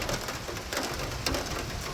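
Rain falling on a house that has a leaking roof, a steady close hiss with a few sharper drips standing out and faint chirps mixed in, no talking.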